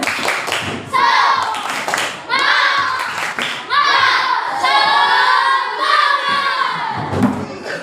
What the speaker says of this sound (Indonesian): Coba tepuk semangat. Tepuk semangat.